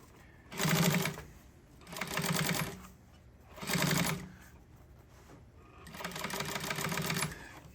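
Sewing machine stitching marine boat seat upholstery in three bursts of a second or so each, then a longer run near the end, each a steady mechanical whir with quiet gaps between.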